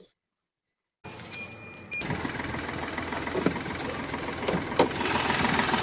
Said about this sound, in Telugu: ఒకసారి స్టార్ట్ చేసి ఇంజన్ చూపిస్తాండి.